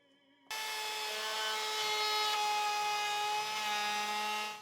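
A router cuts roundover profiles along the edges of a wooden table top, a loud steady whine starting abruptly after a brief quiet moment and holding for several seconds.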